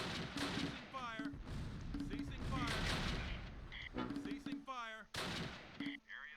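Gunfire in the WWII tactical video game Close Combat Last Stand Arnhem comes as dense, rapid cracks and booms of rifle and artillery fire, with shouted voice snippets from the game breaking through the barrage.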